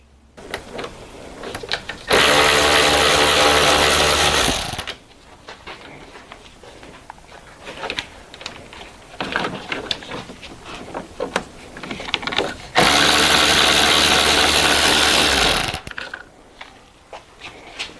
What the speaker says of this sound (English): the next thing is going to be undoing this torque screw